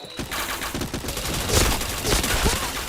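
Gunfire crackles in a shooter video game as headshots land, dense bursts of rapid shots heard up close with a loud, busy texture and no clear talk.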